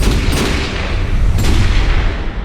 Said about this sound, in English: slowing down the gunshot on the cine, or using a slowed down version for the final shot